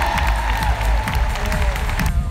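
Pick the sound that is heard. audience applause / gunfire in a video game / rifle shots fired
audience applause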